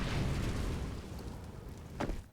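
Incendiary grenade in Counter-Strike: Global Offensive during a pro match on Inferno, a broad crackling burst of fire filling the opening seconds and slowly fading, with a sharper pop near the end.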